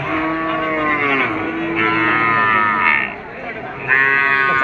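Cattle low and moo repeatedly at a bull market in Sonamukhi, Kazipur, Sirajganj, the calls rising loud and close over a busy crowd murmur.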